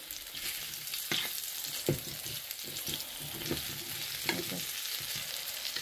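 Prawns sizzle steadily in a hot pan with a constant bright hiss, broken by soft scraping stirs and occasional pops, no voices, fairly close but moderate in level.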